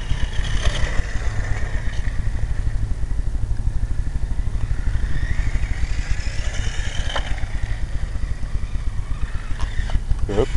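A BoLink BoKart go-kart motor runs steadily nearby with a rapid, even engine chatter, accompanied by occasional higher whines and clatter.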